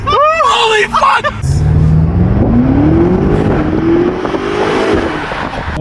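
BMW M5 Competition engine revving and pulling hard, a loud rising drone that climbs steadily in pitch, with excited voices exclaiming loudly over the start.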